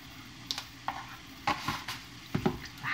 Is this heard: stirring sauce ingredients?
yes